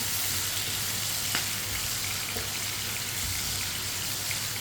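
Tomatoes fry over a medium flame in a pan for a white chana curry, giving a steady, close sizzle with faint scrapes as a spoon stirs them, and no voices.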